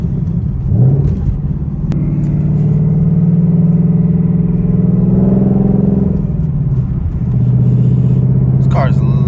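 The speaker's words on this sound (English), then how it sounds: "This car is loud." A loud, steady engine drone fills the cabin of a moving 2020 Mustang GT with windows up, rising and falling slightly in pitch as it drives.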